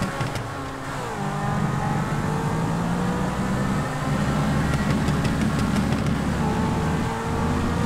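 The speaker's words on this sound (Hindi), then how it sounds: "एक बार इसका एक्सेलरेशन टेस्ट हो जाए" Lamborghini sports car in GTA 5 accelerating hard, a loud continuous engine roar climbing in pitch with brief dips at gear shifts, no voices over it.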